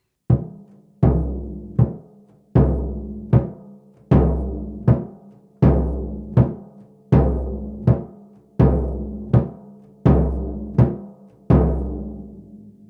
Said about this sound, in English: We usually play the surdo with a mallet.